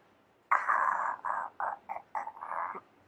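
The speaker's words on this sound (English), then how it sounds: "That's the sound of his stomach." A gurgling, croaking rumble in several short uneven bursts, like a stomach growling, close and fairly quiet, with no talking.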